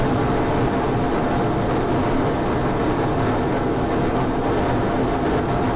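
Rocket engines roaring during lift-off from the planet Eve in Kerbal Space Program, a steady, loud, unbroken rumble that holds constant throughout with no other sounds.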